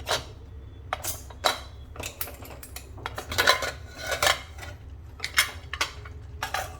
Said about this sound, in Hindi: अब कुकर को खोल देते हैं।